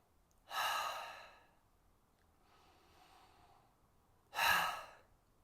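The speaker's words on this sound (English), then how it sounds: "I want to invite you to take 2 breaths with me" Two deep breaths, each a loud, airy exhale about a second long, separated by a quieter inhale, close and alone in a silent room.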